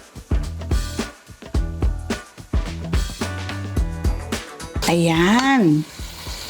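Chorizo, ginger, bay leaf and onions sauté for chicken pastel, with rhythmic spoon clacks and scraping over a sizzle, then a sung, wavering vocal and a brief spoken word.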